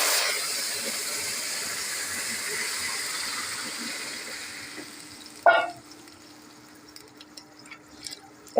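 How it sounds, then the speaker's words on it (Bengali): Water poured into a hot pan of frying rice with turmeric on low heat gives a loud, broad hiss that fades over several seconds, then a sharp burst as more hits the pan, settling into quieter bubbling. "জলটা ঢেলে নেব।"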